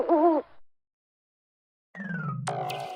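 A cartoon owl in a Turkish educational cartoon for babies gives a short, tonal, wavering hoot. After a pause of silence comes a brighter sustained tone with chiming accents.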